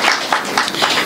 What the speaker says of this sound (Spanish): Vamos con esos aplausos.